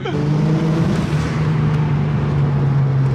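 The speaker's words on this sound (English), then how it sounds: "the car sounds so cool" A car's rebuilt engine hums steadily at a constant pitch while driving, with a brief rising whine at the start; close and loud, no talk.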